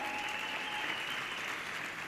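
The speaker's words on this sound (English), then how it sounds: "A round of applause for Asanda." Audience applause greets a woman board chair coming forward to join a panel at a youth empowerment week event in the Vaal, a steady, even wash of clapping heard from some distance and fairly quiet throughout.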